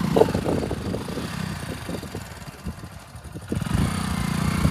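A motorcycle engine, a Splendor bike, revs in uneven bursts up close, dropping to a quieter sputter midway before throttling up again.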